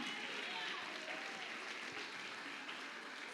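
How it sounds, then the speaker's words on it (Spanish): Church congregation clapping in praise, a dense, steady wash of applause held throughout, heard from within the crowd. "Fuerte el aplauso a Dios,"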